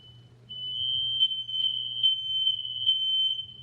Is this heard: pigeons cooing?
no